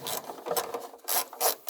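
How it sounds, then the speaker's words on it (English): A ratchet wrench loosens 13mm bolts on the 12V battery of a Volkswagen ID.4, heard as close, quick rasping strokes in short back-and-forth bursts. "These 6 13mm bolts have got to come off."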